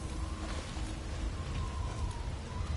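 A rainstorm in the video game God of War Ragnarok in the desert realm of Alfheim, heard as a dense, steady wash of rain and wind with a low rumble beneath and no voices.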